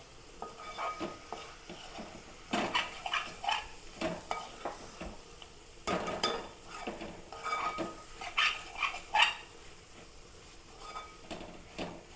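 Meat stirred with masala gravy in a pan, repeated scraping and clinking strokes of a spoon against the metal in uneven bursts over a faint sizzle, close and fairly quiet, no speech.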